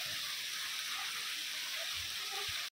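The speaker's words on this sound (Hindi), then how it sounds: "जगह जगह झरने बह रहे हैं" A mountain waterfall near Dalhousie rushes in a steady, loud broadband roar, continuous and close, with no voices over it.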